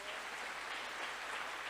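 Audience applause at a business training seminar, a steady dense wash of clapping that holds at an even, fairly quiet level throughout with no voices over it.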